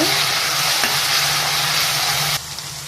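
Ginger and garlic frying in a pressure cooker: a loud, steady broadband sizzle with stirring that carries on without a break, then dips slightly in level near the end.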